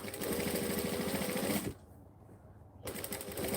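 A sewing machine stitches curves at a steady, rapid whir. It runs near and loud, stops briefly partway through, then starts again.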